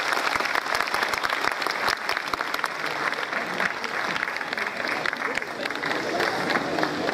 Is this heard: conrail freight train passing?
no